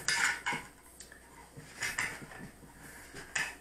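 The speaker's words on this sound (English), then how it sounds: "Attach my piston with a weighing nut" A metal weighing nut is fitted onto a rocket's parachute ejection piston, producing a few close, sharp metallic clinks and scrapes separated by quiet pauses.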